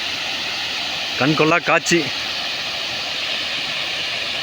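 Steady rushing water pours over the Monai dam waterfall at Alachampalayam, a continuous broad roar filling the whole stretch while someone speaks briefly over it.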